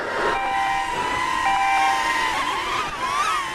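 A small DJI Neo 2 drone whines with a steady high-pitched motor tone whose pitch wavers and shifts, close by and continuous.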